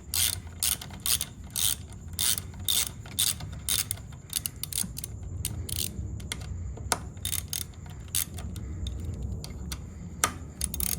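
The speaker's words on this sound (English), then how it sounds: "Tighten the 6mm Allen screws" A 6mm Allen screw on a motorcycle fork, a 2019-2023 ZX6R, is tightened with a ratcheting tool, producing rapid bursts of crisp clicks in short runs with brief pauses, close and fairly quiet.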